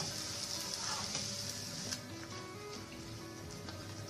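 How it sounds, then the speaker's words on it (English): Malpuas fry in ghee over a low flame, giving a steady, dense sizzle that stays close and constant throughout, with faint crackles and no talking. "make sure you're cooking your malpuas on medium flame basically"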